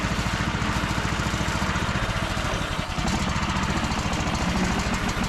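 A T-18 tractor's small engine chugs in a loud, steady knocking rhythm up close as it drives in second gear, the beat dipping briefly before resuming.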